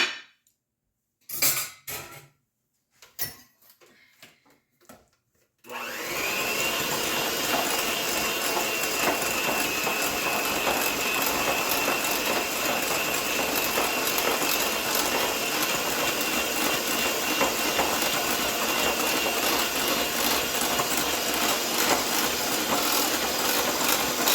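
A few clinks of bowls and utensils are followed by an electric mixer whirring loudly and steadily through carrot cupcake batter with sugar, a continuous close mechanical drone lasting many seconds with no talking.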